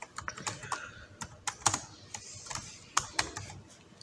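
Keys clatter on a computer keyboard as a category name is typed into a WordPress admin page, a close, irregular run of light clicks with a few louder taps and no talking.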